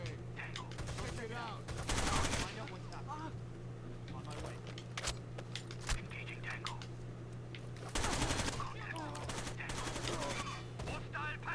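Gunfire in the tactical shooter Rainbow Six Vegas 2 crackles in bursts, loudest near the start and again around two-thirds through, with scattered single shots between, over a steady game hum and occasional talk.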